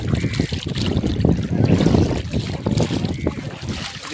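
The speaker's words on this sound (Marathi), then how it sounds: "रिमझिम पाऊस पण चालू आहे आणि वारा पण चालू आहे" Steady wind and light drizzle wash over a boat crossing a creek. Continuous rushing and splashing noise fills the scene from start to finish.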